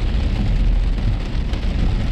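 Rain falls steadily, a dense, even patter with a low rumbling undertone, continuous throughout without any voices.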